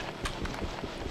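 Horses in the Minecraft video game, heard as brief clip-clop hoof taps and faint animal noise over a busy game background, short and moderately quiet.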